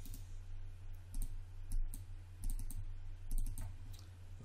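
Computer mouse clicks while working in Maya 2017, a series of quick, fairly faint clicks in small clusters over a steady low hum.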